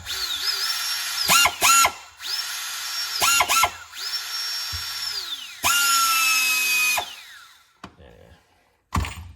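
Several bursts of a high whining Snap-on pneumatic mini drill spinning up and winding down, with short sharp pneumatic hisses between runs, close and loud.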